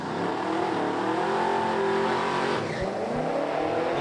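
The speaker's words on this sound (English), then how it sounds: "Korn drives around top end as Hamilton breaks out" Drag race car at the NMRA World Finals running down the track, a loud, sustained engine roar with a rising pitch and faint tire noise, heard with no voices.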